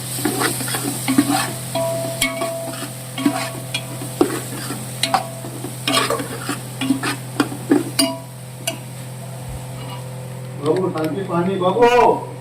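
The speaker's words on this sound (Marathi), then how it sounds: "कोबी पण त्या तेलात आता फ्राय करून घेणार आपण" Shredded cabbage fries in oil in a pan for hakka noodles, with a steady loud sizzle, scraping stirs and occasional clinks of utensils, while voices talk in the background.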